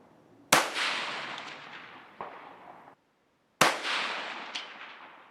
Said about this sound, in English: I'm going to try to shoot the one on the left. This is the Hornady VMAX 17 grain bullet.